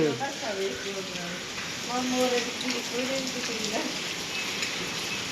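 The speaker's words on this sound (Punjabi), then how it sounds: "ਮੀਂਹ ਨਹੀਂ ਹਟਣ ਦਾ ਨਾਮ ਲੈ ਰਿਹਾ" Heavy rain falls steadily at night, a constant wash of hiss and patter under a voice speaking close by.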